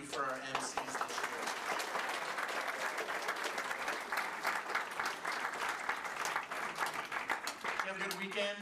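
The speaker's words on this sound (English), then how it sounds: "One more round of applause." A crowd at a youth convention bursts into applause, a dense, sustained patter of many hands clapping. A brief voice is heard at the start and again at the end.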